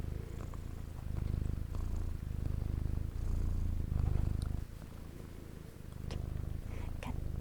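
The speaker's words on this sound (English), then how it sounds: "With the best purring you ever did here" A cat purrs close by in a steady low rumble that swells and fades with each breath, with soft rustling and faint speech at times.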